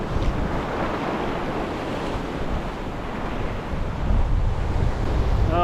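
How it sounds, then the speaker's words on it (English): Strong wind blasts a microphone on a sea cliff while ocean waves roll and surge below. The roar stays loud and continuous, swelling heavier toward the end. "Oh, the wind is just unpleasant."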